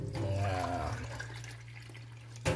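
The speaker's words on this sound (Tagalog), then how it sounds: "Lalagyan po natin siya ng tubig." Water runs steadily into a pot for Korean noodles in a home kitchen, a close, continuous pouring hum with a faint splash at the end and no talk over it.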